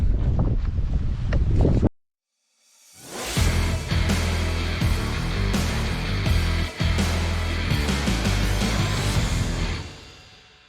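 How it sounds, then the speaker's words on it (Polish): Strong wind buffets the microphone outdoors at a new house under construction, a loud continuous roar that follows a brief silent gap and carries on with gusty surges to the end. "bo na zewnątrz straszny wiatr wieje"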